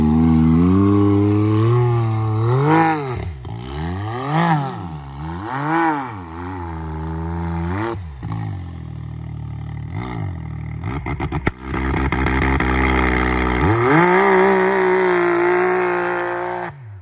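A Can-Am Maverick X3 fitted with an EVO Powersports Shocker exhaust pipe revs hard several times in loud, close, rising and falling bursts. It then holds near full throttle, with sharp crackling backfires between pulls and no talk over it.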